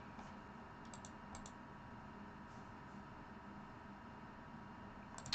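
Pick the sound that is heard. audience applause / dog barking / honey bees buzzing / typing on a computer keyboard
typing on a computer keyboard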